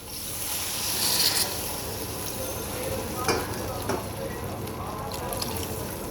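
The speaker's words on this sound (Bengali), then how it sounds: "ঝোলের জলটা দিয়ে দিলাম" Water poured into a hot pan of spiced fish curry, a Bengali tengra fish broth with water lily stems, giving a steady close hiss and sizzle with a brief louder splash near the start.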